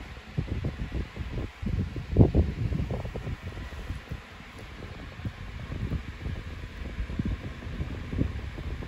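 A Westinghouse 16-inch pedestal fan running with a replacement blade, a steady whooshing airflow with uneven low buffeting against the microphone, close and moderately loud, no talking.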